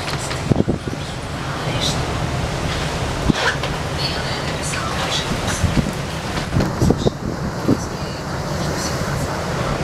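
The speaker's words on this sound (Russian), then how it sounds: "Волна за волной." Storm waves crash and surge at Sevastopol bay near the Ravelin exit in a 2016 storm, a dense continuous roar with repeated louder breaking bursts over steady wind-like noise.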